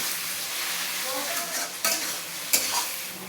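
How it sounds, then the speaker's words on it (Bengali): Pieces of chicken meat fry loudly in a pan for egg chicken chowmein, a close, steady sizzle broken by scraping stirs, with no voices. "মাংসগুলো ভালো করে ভেজে নেব।"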